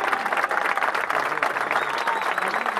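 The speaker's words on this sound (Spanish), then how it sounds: "Aplauso más grande para la selección de Neuquén." Crowd applause for the Neuquén team at the Juegos de la Araucanía 2016 sports event, a dense, steady wash of many hands clapping with some crowd noise mixed in.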